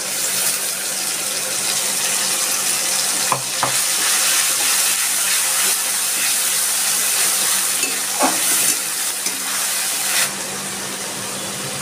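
Onion, garlic and ginger paste sizzles steadily in a hot pan for a Bengali red-chilli bhola fish curry, with occasional stirring scrapes and a faint background hum, no talking.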